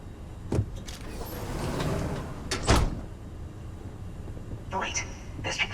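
Shutters slide shut in Starfield with a mechanical whir and a couple of sharp clunks, and a voice talks over it.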